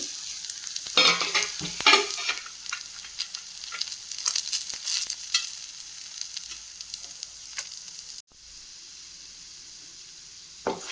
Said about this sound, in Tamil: எண்ணெய் ஊற்றிட்டு நம்ம ஆல்ரெடி எடுத்து வச்சுட்ட ஸ்பைசஸ் எல்லாத்தையும் போட்டு